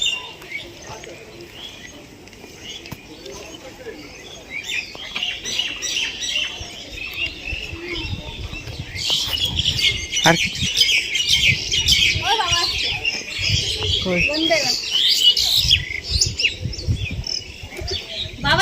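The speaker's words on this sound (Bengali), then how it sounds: "সকাল সকাল স্টেশনে পাখির কিচির বিচির আওয়াজটা সেই লাগছে" Morning birds chirp and tweet at a railway station, a busy cluster of calls building in the second half over a low rumbling platform ambience, with voices faintly present.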